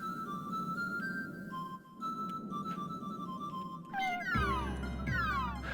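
A cat meows repeatedly right beside the listener, a run of close, insistent meows over a low background hum, with bright electronic chirps and sweeps from a game in the later part.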